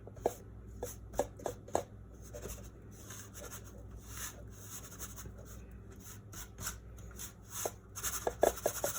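Kosher salt is worked through a sieve over cake batter ingredients, making soft scraping and rubbing sounds with scattered light taps and rattles, quiet and close, with no talking.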